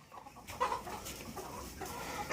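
Chickens in a henhouse, with a duck nearby, cluck and murmur steadily through the whole stretch, close and moderately loud, a busy flock sound with no talking over it.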